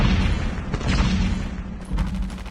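A grenade bursts with a heavy boom in the mobile shooter Call of Duty Mobile, on the Crossfire map during a multiplayer match, amid loud, dense game gunfire that dips briefly and then surges again.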